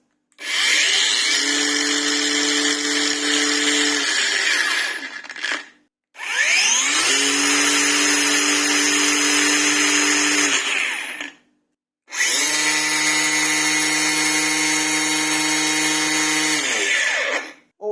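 Bosch GWS 18V-15 SC and Parkside Performance cordless angle grinders run at speed level 6, three loud, steady high-pitched whines of several seconds each, each spinning up and winding down, with short silences between them.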